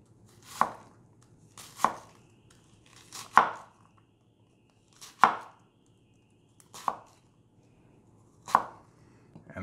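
A knife slices through an onion on a cutting board in seven crisp, evenly spaced chops, close and clear against a quiet background.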